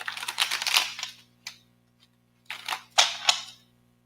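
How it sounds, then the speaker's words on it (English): Quick riffling bursts of cards, a longer shuffle followed by a short snap, then two more crisp riffles, close and fairly loud. "Let me do a quick shuffle"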